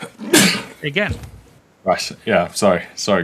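A sudden sneeze bursts out near the start, loud and close, followed by a brief pause before several people resume talking in quick conversational phrases.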